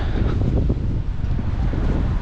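Strong wind buffeting a microphone outdoors on a city street in Krakow, a loud continuous low rumble with gusty swells and no speech over it.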